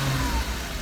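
Engine and intake of a Porsche Cayman running without its engine cover, a brief steady mid-range engine hum with airy intake rush layered over it, close and moderately loud.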